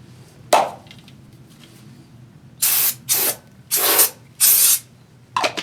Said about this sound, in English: So we need to spray some brake cleaner in there and clean them up good.